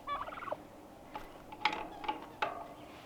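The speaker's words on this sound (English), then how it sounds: "these are the pardoned Thanksgiving turkeys." Pardoned Thanksgiving turkeys gobbling nearby, a rattling gobble at the start followed by several sharp, separate gobbles and calls spaced about half a second apart, moderately loud over quiet background.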